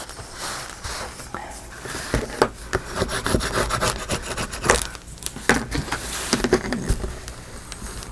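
Paper wrapping being rubbed down onto a book cover during a medieval-style binding, giving steady close scratchy rubbing strokes with brief louder scrapes, while someone speaks at times.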